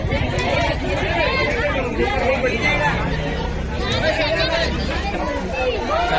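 Dense crowd chatter and hubbub in a traffic jam, a steady loud mix of many voices with traffic rumble underneath.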